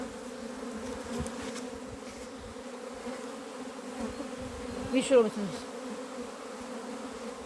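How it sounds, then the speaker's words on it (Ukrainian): Young honeybees on orientation flights swarm around hives at an apiary during an anomalously cold spring, a steady buzzing drone running throughout, with someone speaking briefly near the end. "Молода бджола обльотується."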